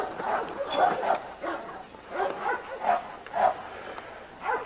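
An American pit bull terrier in a dog yard gives a run of short, evenly spaced barks and yips, close and fairly loud, with faint voices behind.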